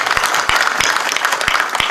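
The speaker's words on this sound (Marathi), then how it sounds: "एकदा आमच्या सगळी भजने मंडळासाठी टाळ्या वाजवा जोरदार." A burst of audience clapping at a kirtan for the bhajan groups, fairly loud and close, with a few sharper individual claps standing out over about two seconds.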